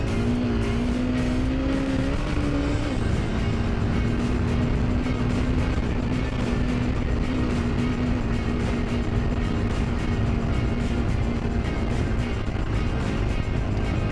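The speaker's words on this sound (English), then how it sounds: "I held third gear all the way up that hill, and it's a pretty steep hill" A Honda CRF250L Rally motorcycle holds third gear while climbing a steep, slick hill, its engine droning steadily and loudly for the whole stretch, with a brief pitch shift near the start and rough wind and road noise throughout.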